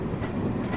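Interior rumble of a train brake van in Train Simulator 2020 on the Stainmore line, a brief, steady low rolling drone with faint rhythmic wheel clatter.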